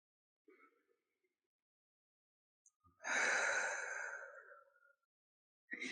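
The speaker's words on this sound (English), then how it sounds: "start by taking some slow, deep cleansing breaths" Slow, deep breath drawn in a quiet room during a guided relaxation, one long soft inhale-exhale rising then fading, preceded by a faint shorter breath and followed by the start of another.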